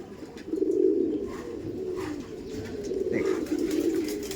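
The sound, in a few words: male Madrasi pigeon cooing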